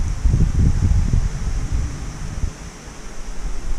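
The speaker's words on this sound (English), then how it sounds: "Strong wind, yeah." Strong wind buffeting a microphone outdoors during a DJI drone flight, heavy low rumbling gusts that are loudest at first and then ease into a steadier broadband rush.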